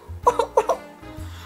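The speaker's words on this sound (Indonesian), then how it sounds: "Ia terus saja batuk dan batuk lagi." A child coughs in two quick pairs of short, close coughs, in a spoken children's story about being sick with a cough.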